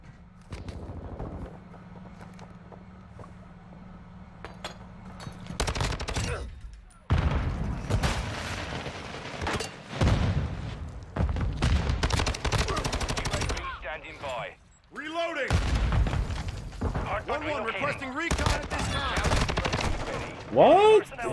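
Bursts of close, loud automatic gunfire and single shots in Call of Duty MW2 multiplayer, repeated volleys separated by short pauses, with game voice callouts and explosions mixed in.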